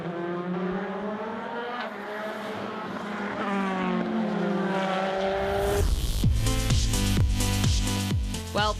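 Zytek Nissan LMP2 prototype race cars scream past during a WEC race near Les Combes at Spa, one engine climbing through revs before a sharp, loud pass with rapid gearshifts and falling pitch.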